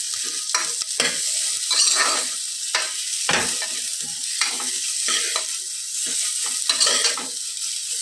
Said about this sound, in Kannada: ಚೆನ್ನಾಗಿ ಫ್ರೈ ಮಾಡಬೇಕು. ಆನಿಯನ್ ಎಲ್ಲ ಗೋಲ್ಡನ್ ಕಲರ್ ಬರಬೇಕು, ಲೈಕ್ ಲೈಟ್ ಗೋಲ್ಡ್.